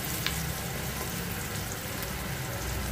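Garlic ginger paste sizzles in hot oil with browned onions for a Pakistani dal gosht, a steady close frying hiss with no pauses and no voices.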